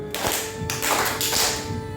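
Hand clapping in a teachers' training session, a single clap followed by a quick pair in a one-then-two pattern, close and loud, with the short bursts standing alone without talk.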